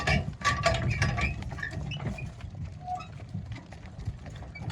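Working mares walk on muddy ground after rain, their hooves giving soft, irregular clops close by, mixed with faint clinks and rattles of harness or cart, fairly quiet overall.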